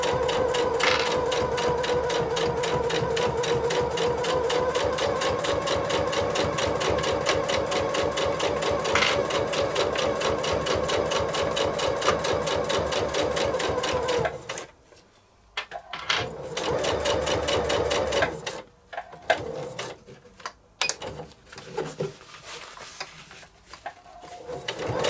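A sewing machine stitches a beach bag seam in one long, even run of rapid needle strokes for about fifteen seconds, then stops and restarts in short bursts amid handling noises.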